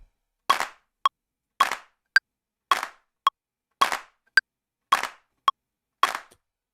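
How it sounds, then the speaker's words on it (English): Sampled drum-machine clap hits in a beat being built live, eleven sharp dry claps alternating between fuller broadband hits and thinner, tonal ones in a steady, evenly spaced rhythm, loud and alone. "we got the claps"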